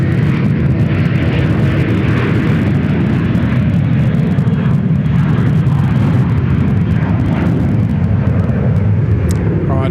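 Airplane departing Sydney Airport, a loud continuous jet roar close by, steady for the whole stretch, with people talking over it.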